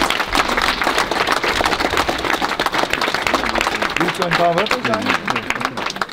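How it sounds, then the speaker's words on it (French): Sustained applause from a crowd gathered outdoors at a Stolperstein laying ceremony in Saverne, dense and steady throughout, with voices mixed in and a brief sung or spoken phrase near the end. "encore un grand tonnerre d'applaudissements"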